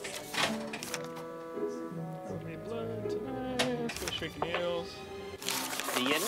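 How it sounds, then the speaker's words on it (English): Shrieking Eels sound effect from a Princess Bride pinball machine: warbling, pitched electronic cries layered with game music and clatter, with voices talking over them throughout. "I know what that sound is. It's the Shrieking Eels."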